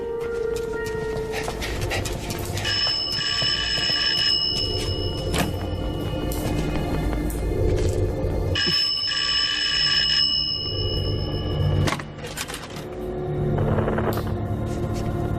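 A telephone rings loudly in two separate bursts of shrill, bell-like tones, with a pause between them, over a low background rumble.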